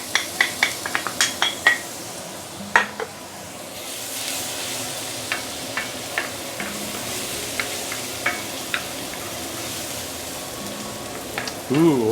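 Onion already golden brown and freshly added garlic saute in a hot pan for a Nyonya Ayam Pongteh, with a steady sizzle and a run of sharp utensil clinks and scrapes against the pan, close and clear.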